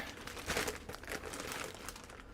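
Plastic cups and dome lids crinkle and crackle as they are handled, close and fairly quiet, in short bursts for a couple of seconds with no talking.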